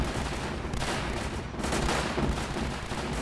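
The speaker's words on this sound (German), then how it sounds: "Artillerie." Dense, continuous artillery barrage in the tower defense game Northend Tower Defense, a steady wall of booming, crackling fire with no pauses across the whole stretch and no voices over it.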